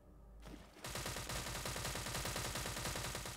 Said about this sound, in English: Somebody's shooting over there